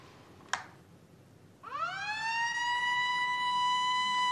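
A fire engine siren starts up after a brief knock, its wailing tone climbing quickly and then holding steady and loud for several seconds, with no voices heard.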